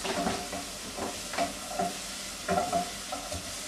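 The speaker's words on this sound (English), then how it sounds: "Then you fry those for about 15 minutes on the low heat." Food fries in a pan on low heat while being stirred, a steady sizzle broken by periodic scraping strokes of a utensil against the pan, close and moderately loud.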